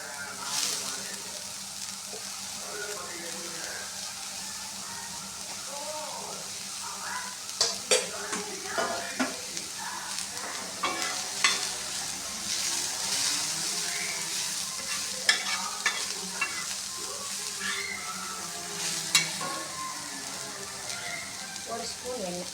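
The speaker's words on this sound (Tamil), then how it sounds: "இப்போ வந்து ஆனியன் லைட்டாக நம்ம வதக்கிக்கலாம் எண்ணெயில்." Sliced onion and green chili sauté in a spoon of oil in a pan for onion dosa, a steady soft sizzle broken by repeated scraping stirs and occasional clinks of the spatula against the pan.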